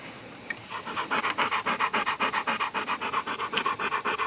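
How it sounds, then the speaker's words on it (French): A frightened dog panting hard and fast at close range, its quick rhythmic breaths steady and unbroken. "Le chien a peur en plus, regardez-le."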